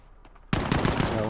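Automatic gunfire in Call of Duty: Modern Warfare bursts in loudly after a quiet start, a fast rattling volley of close shots with faint voices underneath.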